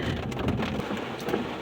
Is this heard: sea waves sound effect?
no